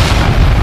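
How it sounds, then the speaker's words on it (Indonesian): A single heavy explosion effect in a horror narration, a short dense low boom that fills the moment loudly with no voices. "suara ledakan kembali terdengar, membuat 4 orang ini tersadar seketika"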